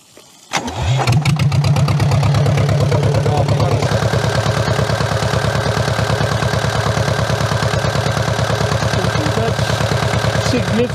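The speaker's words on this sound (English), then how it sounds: "Right, so switch engine. Start it." A Jabiru light aircraft engine cranks over with a few rapid starter turns, then catches and settles into a loud, steady running rhythm close by, its note shifting slightly partway through as it keeps running.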